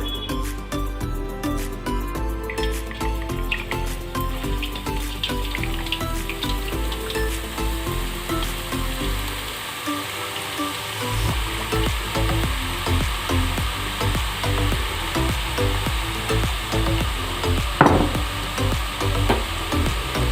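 Boondi batter drops frying in hot oil for sweet mithi boondi, a dense continuous sizzle and crackle, loud and close, with occasional stirring clinks and no talk.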